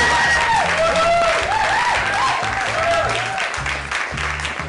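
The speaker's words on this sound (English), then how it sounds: "If you would get a huge round of applause to the folks from China Chats." A comedy-show audience on a Sunday night gives a big round of applause, dense clapping and some cheering filling the room for several seconds, with music playing underneath.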